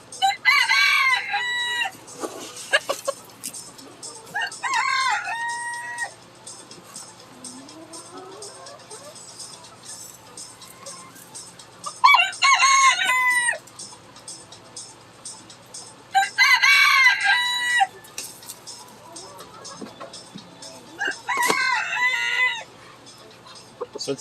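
Roosters crowing repeatedly in bursts over steady clucking from hens and chicks inside a chicken coop, close and fairly loud, with quieter pauses between crows.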